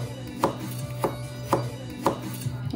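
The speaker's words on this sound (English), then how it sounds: "Got some sweet potato rounds, which we're just going to cut into thin battens." A knife chops sweet potato rounds into thin batons on a board, four steady, evenly spaced cuts close up with no talking.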